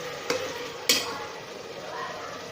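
Tomatoes, half chopped and half blended, stirred in a frying pan over a faint steady sizzle, with two sharp scrapes of the spoon against the pan.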